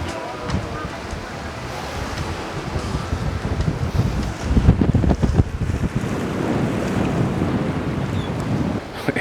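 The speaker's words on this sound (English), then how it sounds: "It is super windy today" Strong wind at a Florida beach buffets the microphone in rough, uneven gusts, with surf-like rushing underneath and bursts of loud rumbling throughout.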